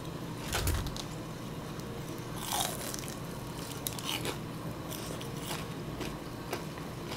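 Crispy fried chicken eaten with raw green onion gives close, quiet crunching and chewing bites, scattered irregularly over a soft steady background with no talking.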